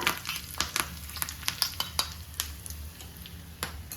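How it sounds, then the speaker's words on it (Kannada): Curry leaves and spices crackling in hot oil for a coconut kadi tempering, with sharp irregular pops and spatters over a low sizzle and faint stirring, close and with no voices. "ಒಗ್ಗರಣೆ ತುಂಬ ಹೊತ್ತಬಾರ್ದು, ಇಷ್ಟಾದರೆ ಸಾಕು, ಚಟಪಟ ಆಗ್ತದೆ"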